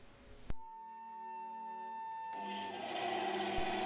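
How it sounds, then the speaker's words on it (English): A bandsaw cuts a wooden spacer for a wooden clock wheel: a sharp knock, then a steady motor hum, with the rough cutting noise of the blade in wood rising over the last second and a half. "Roughly cut the spacer on the bandsaw"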